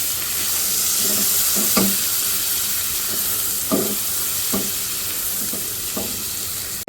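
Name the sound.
chopped onion frying in a pan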